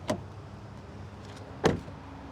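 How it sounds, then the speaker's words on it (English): Two solid thuds as the doors of a 2023 Acura Integra A-Spec are shut, one at the start and another about one and a half seconds later, close and distinct with no talking. "let's hear how these doors sound when you close them"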